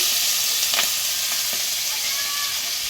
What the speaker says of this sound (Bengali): কড়াই তেল দিলাম, বেশি তেল দেবো না, সামান্য তেল দিয়ে মাছটা খালি এপিট ওপিট করে একটু নেড়ে ভেজে নেব।